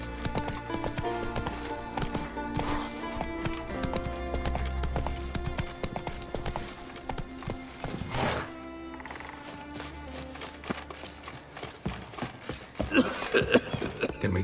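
Horse hooves clip-clop at a steady trotting pace in The Witcher 3, fairly quiet and mixed with soft ambient game sounds, briefly pausing before resuming with louder hoofbeats toward the end.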